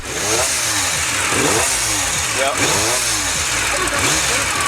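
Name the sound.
32-valve motorcycle engine revving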